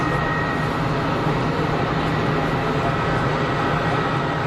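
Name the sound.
airliner at Geneva Airport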